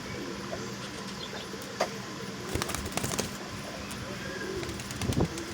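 Pigeons of many breeds kept together at a pigeon market coo softly at mid distance over a low background hum, with a few scattered rustles and brief louder bursts.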